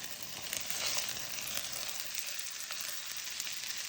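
Onions fry in a heated pan with a steady, crackling sizzle that stays even and close throughout, heard alone with no voices.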